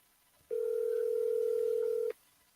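A single steady ringback tone from an unanswered phone call sounds alone for about a second and a half, clean and unbroken, with quiet before and after.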